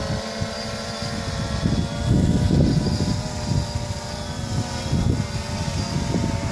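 A DJI Phantom drone hovers low over llamas on a farm, giving a steady, fairly loud rotor whine with layered tonal hum and rumble that rises and falls slightly as it holds position, with no talk.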